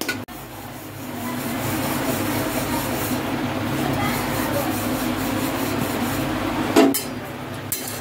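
Puran poli, a flatbread stuffed with sweet lentil filling, being rolled out with a rolling pin: a steady close rubbing, scraping texture runs throughout, with a soft knock near the start and a sharper tap near the end.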